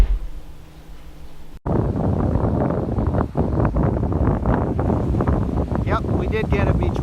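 Strong wind buffeting a beach in Eleuthera, a loud continuous roar that starts abruptly after a quieter opening, with a person's voice briefly audible near the end.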